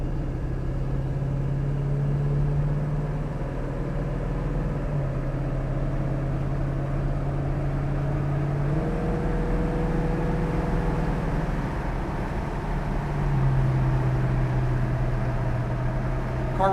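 Inside a 1966 Ford Mustang on the road, a steady engine drone and tyre rumble fill the cabin, the pitch climbing then dropping at shifts as the car pulls through its gears.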